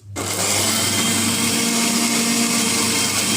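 A mixer grinder whirs loud and steady as it grinds tomato, onion, ginger, garlic and green chilli, starting abruptly and holding a constant motor drone to the end.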